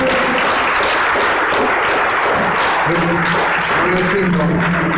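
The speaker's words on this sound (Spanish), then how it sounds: "Fuerte el aplauso a Cristo" A church congregation applauds loudly and continuously, a thick wash of clapping with voices and some tonal sound rising beneath it toward the end.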